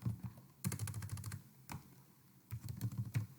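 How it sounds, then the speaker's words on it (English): Typing on a computer keyboard, answering a classroom assignment: quiet bursts of rapid key clicks, a pause, one isolated tap, then another short run of keystrokes, close and soft, with no voices. "So you can type your answer on there."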